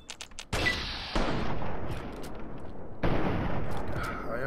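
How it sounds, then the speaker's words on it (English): Gunfire in the video game Fallout 3 during a sniper standoff: sharp shots followed by booming, rumbling blasts that linger, with a second heavy burst near the end. "Stop shooting me."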